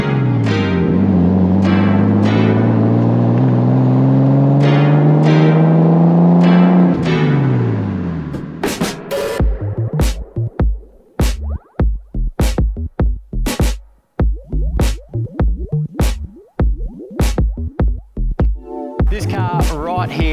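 A 1989 Nissan R32 Skyline GTST runs the hills, its engine rising in a loud sustained rev before breaking into a rapid series of sharp pops and crackles through the exhaust.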